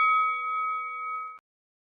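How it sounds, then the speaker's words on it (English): A single bright bell ding rings out clearly and sustains evenly for over a second before cutting off abruptly, alone without any talk. "Nah, that was that bell coming back. It was the bell."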